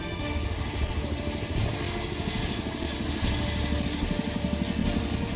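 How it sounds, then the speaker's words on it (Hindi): A Chinook military transport helicopter drones steadily and loudly with a dense, continuous rotor and engine roar throughout, no voices over it. "इस लिस्ट में अब चिनूक हेलीकॉप्टर्स का नाम भी जुड़ गया है।"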